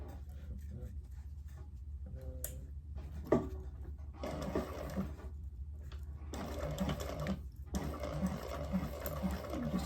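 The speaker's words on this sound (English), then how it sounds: "I'm going to sew from the top of the dart down to the bottom." A sewing machine stitches a clamshell sling in several runs of fast, even mechanical whirring, broken by brief pauses, close and clear, with a voice speaking quietly between the runs.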